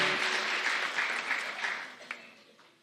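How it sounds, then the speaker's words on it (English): Audience applause at a college beauty pageant, a broad wash of clapping from a crowd that slowly fades away over a few seconds. "Let's give all of these girls another rousing round of applause."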